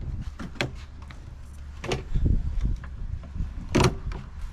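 A Ford Bronco soft top fitted with IAG struts being closed: a series of mechanical clunks, creaks and fabric rustles with a few sharp knocks, fairly close, under steady low background rumble and no talking.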